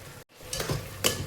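Carrot halwa stirred in a pan with a spoon, two quick soft scraping strokes with a faint sizzle after a brief pause.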